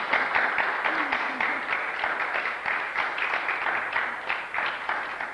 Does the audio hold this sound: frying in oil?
no